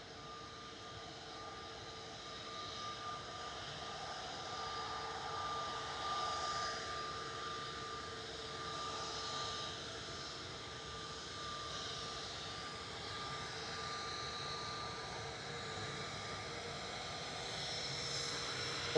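Faint, distant jet engine rumble at Manchester Airport as a Lufthansa plane arrives and an EasyJet jet departs for Antalya, a steady low drone with a thin tonal whine running through it.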